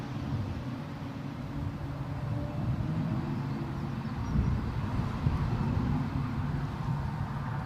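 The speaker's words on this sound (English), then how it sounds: "let's have a quick shifty at our departing Embraer while it's nice and close in" An Embraer jet departs Newcastle International Airport with a broad, low engine roar that swells gradually, steady and fairly close, with some wind noise on the microphone.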